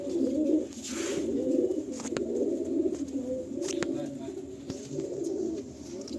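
Pigeons coo steadily in a loft, a low, continuous, overlapping murmur of calls close by, broken by a few brief clicks and flutters.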